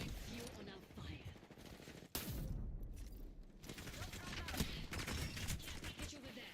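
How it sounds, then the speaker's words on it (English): Video game shooter gunfire, a sharp burst of shots with continuous rattling fire throughout, moderately loud and dense, mixed with game sounds. "Being shot at."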